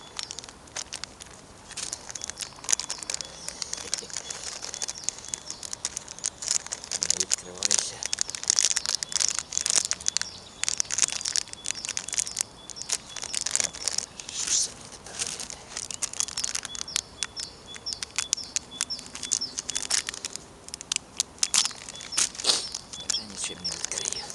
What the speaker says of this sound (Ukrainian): з великими труднощами відкрив я цей пакетик супу